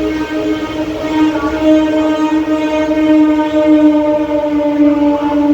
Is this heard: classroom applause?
no